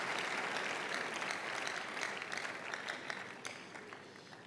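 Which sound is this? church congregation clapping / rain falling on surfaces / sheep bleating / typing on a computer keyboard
church congregation clapping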